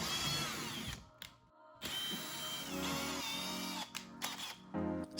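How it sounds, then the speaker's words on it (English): A power drill fitted with a 1/2-inch bit bores straight through drywall, whining loudly in bursts with brief pauses and restarts, close and with no talking. "We're going to use a 1/2-inch drill bit to go straight through the drywall."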